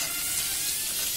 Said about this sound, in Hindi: तेल गर्म हो चुका है। अब हम इसमें 1/2 चम्मच क्यूमन सीड्स डाल देंगे। अब हम इसमें प्याज भी डाल देंगे।